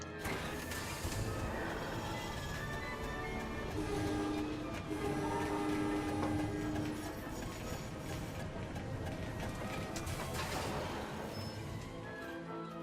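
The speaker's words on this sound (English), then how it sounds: "we just hop back on the train" A train ride in the video game MediEvil: a steady rolling rumble of rail cars with rising tonal whistle-like sounds and clattering, continuous and moderately loud.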